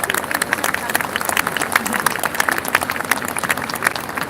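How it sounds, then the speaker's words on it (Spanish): A crowd at a Señor de los Milagros religious procession claps steadily in a quick, even rhythm, many hands close by and fairly loud, with voices mixed in. "Fuerte las palmas."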